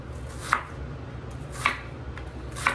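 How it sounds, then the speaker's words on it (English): An onion being sliced with a knife on a cutting board, three crisp cuts spaced about a second apart, close and clear over a quiet room with no talk. "I'm again using this motion where I'm sliding the knife through my onion"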